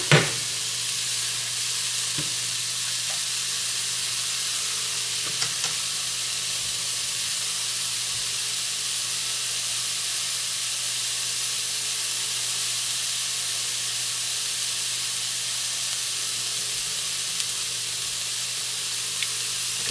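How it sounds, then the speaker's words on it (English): Mushrooms sautéing over fairly high heat in a hot pan for an omelet, a loud, even, continuous frying hiss with occasional faint ticks, no talking. "I want these mushrooms to fry, not boil in their own soup."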